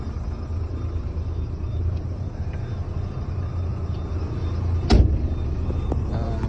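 A HOWO 12-ton manipulator truck with an XMG engine idles with a steady low rumble throughout, a brief louder thump near the end.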